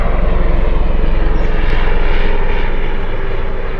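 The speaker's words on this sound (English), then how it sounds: "Sorry, there's a helicopter." Loud, steady rotor and engine drone of a helicopter passing overhead, a continuous throbbing roar that dominates throughout and eases slightly toward the end.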